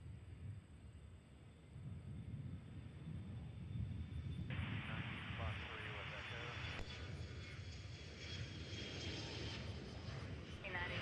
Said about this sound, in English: Air American 3305 taking off on runway 27, heading to Dallas.